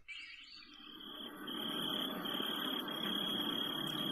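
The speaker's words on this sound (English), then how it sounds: "Crickets." Steady crickets chirping in a dense insect chorus with a sustained high tone, swelling louder partway through and continuing without voices, played through a portable radio's speaker.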